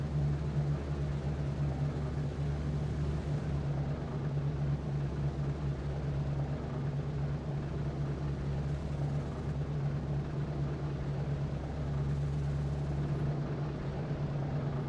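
Four-engine B-17 bomber engines drone steadily while taxiing in a flight simulator game, a constant low propeller hum that stays even and close throughout, with no talking.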